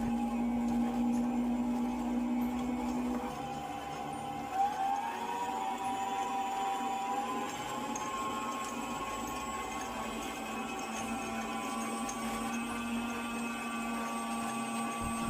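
An electric stand mixer runs at low to medium speed beating eggs into sweet tart dough, a continuous whirring motor hum that shifts pitch slightly as the load changes, steady and fairly close, with no talking.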